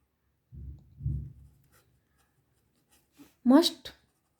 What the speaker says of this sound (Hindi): तो देखो मैं ये लिख देती हूँ यहाँ पर